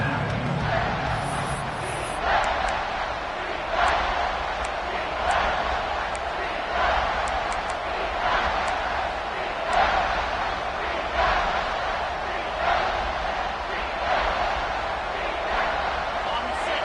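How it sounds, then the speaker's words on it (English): A stadium crowd at an American football game roars continuously through a tense late-fourth-quarter tie, loud and diffuse with swelling waves, while a commentator's voice runs over it. "the crowd coming to life here, trying to help this defense down in the red zone"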